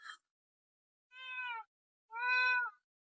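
A cat gives two clear meows, close and fairly quiet, separated by short silences after a faint opening chirp.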